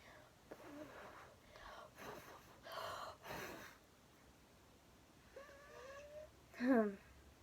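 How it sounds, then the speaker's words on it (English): Soft nasal sniffs and breathy inhales of Ariana Grande Frankie perfume come in short bursts, close and quiet, followed by a brief murmur of voice. "I need a good sniff of it."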